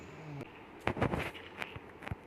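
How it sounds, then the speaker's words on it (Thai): Booming explosion bursts from TNT blowing up in the video game Minecraft, a cluster of loud cracks and rumbles after a quieter start, with a few smaller pops trailing off. "ระเบิดทีนทีมา"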